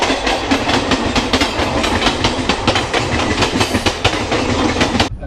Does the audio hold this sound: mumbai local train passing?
yes